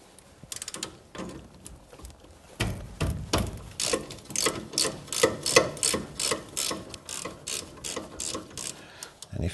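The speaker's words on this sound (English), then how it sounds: "it's a case of undoing the bolt. And then onto the lower one." Socket ratchet undoing a front brake caliper bolt on a VW T2 Bay van: a few scattered metallic clicks, then a fast, steady run of close ratcheting clicks, with no talk.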